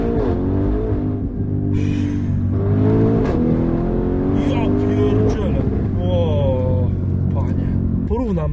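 A 1001-horsepower MTM-tuned Audi RS Q8 accelerating hard, its engine roaring loud and close and climbing in pitch throughout, with a person talking over it.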